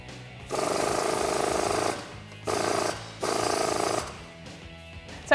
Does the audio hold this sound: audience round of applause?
no